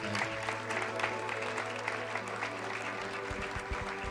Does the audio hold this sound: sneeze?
no